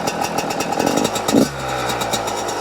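Yamaha YZ125 two-stroke dirt bike engine firing on the first kick from cold with no choke, a loud raspy buzzing drone that surges briefly, then settles into a steady idle.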